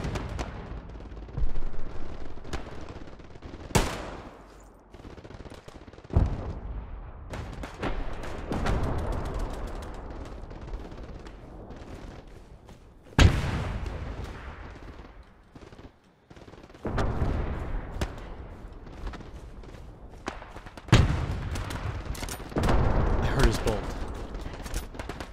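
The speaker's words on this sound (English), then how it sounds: "I swear I hear shots over here." Gunfire in the World War 2 shooter Hell Let Loose: a string of sharp rifle and gun shots, some loud and close and others more distant, over a rumbling battlefield background.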